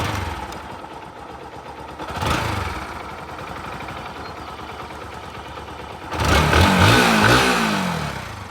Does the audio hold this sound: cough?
no